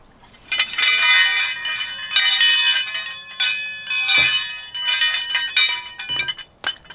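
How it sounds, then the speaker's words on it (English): Wind chimes ring and clink in bright, overlapping tinkling bursts, loud and close, swelling and fading in irregular waves with no voices. "I do not particularly like the sound of wind chimes."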